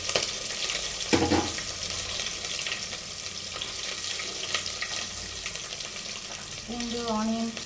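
Cut garlic and dried red chillies fry in a pan with a steady, close sizzling hiss that runs throughout, joined by a brief tonal sound near the end.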